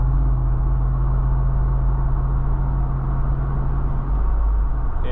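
A Jeep Wrangler Rubicon 392 with its 6.4 liter V8 drives along, giving a steady, deep engine rumble mixed with road noise from inside the cabin.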